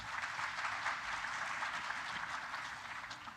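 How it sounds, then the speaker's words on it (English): Audience applauds steadily at a finance conference session honoring the government and the President, a broad dense clapping that holds for a few seconds and slowly tapers, with no voices over it. "Please clap for the government and for His Excellency the President."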